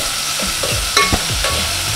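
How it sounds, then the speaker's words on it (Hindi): Chicken frying in a pan on a home stove, a steady bright sizzle with scraping stirs and a couple of sharper metallic clinks, close and loud, no voices. "अभी चिकन बन रही है।"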